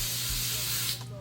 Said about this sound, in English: I'm gonna add a little holding spray on my hand and rub it on the hair because it has some flyaways.